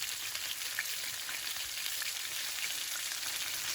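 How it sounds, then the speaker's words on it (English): Chicken pieces browning in oil in a pot sizzle in a dense, steady hiss, close and fairly loud, with no voices. "Flip the pieces to the other side and brown them also for 5 minutes"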